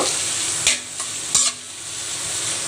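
Onions frying in oil for a bitter gourd stir-fry, a constant bright sizzle with two sharper spatula scrapes near the start, close and moderately loud, no talking.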